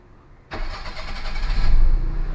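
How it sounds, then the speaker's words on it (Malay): A Perodua Kancil car engine with a newly replaced carburetor cranks and catches at once, then runs with a steady, rising rumble, close by and fairly loud. "Lepas tu kita matikan enjin dan kita start balik tengok"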